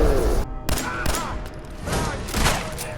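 Raiders' gunfire in Fallout 4, dense loud bursts of shots and impacts crowding the whole three seconds with only a brief gap, mixed with game noise.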